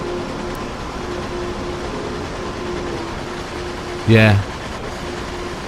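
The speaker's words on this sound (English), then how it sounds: "it's nice to hear the trains" Freight trains in Train Sim World on Xbox One X: a constant low rumble with a steady tonal hum, and one brief loud horn-like blast near the end. A single short spoken word sits in the mix.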